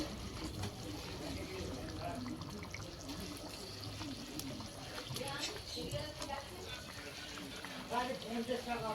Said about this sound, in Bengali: উনুনের প্রচুর তাপ হয়ে গেছে দেখো ঝোল ফুটে উঠেছে